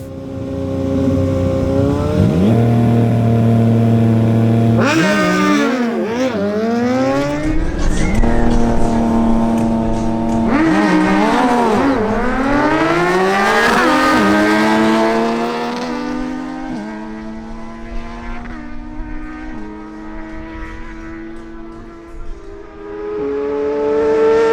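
A Yamaha MT-09 and a Suzuki GSX-S750 race in turn, engines revving hard through rising gear pulls with sharp downshift blips and swooping pitch changes, loud and close, fading to a lower idle-like drone toward the end.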